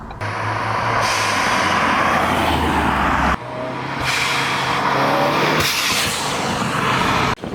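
Cars roar past close by in loud bursts, engine noise rising and cutting off sharply, with a brief hiss-like release from a blow-off valve between passes.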